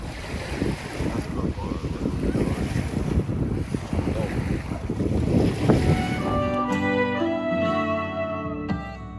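Surf washes steadily onto Coral Beach on the Isle of Skye, mixed with gusty wind buffeting the microphone, until music takes over for the last few seconds.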